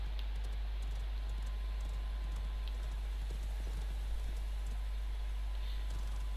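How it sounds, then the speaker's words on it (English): Rhythmic clip-clop hoofbeats of a horse galloping in the video game Realm Royale, steady and fairly faint, running alone without talk. "let's get the horse and ride it till the circle"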